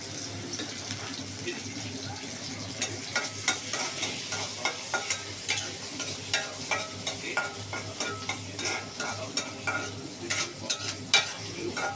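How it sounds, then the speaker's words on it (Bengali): Radish curry cooks on a stove with a soft, steady sizzle while a spoon scrapes and stirs in a quick regular rhythm, close and fairly quiet, with no voice over it. "আর এই চুলায় মূলার তরকারিটা বসিয়ে দিন।"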